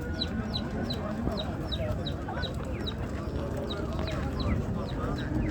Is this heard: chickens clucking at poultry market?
yes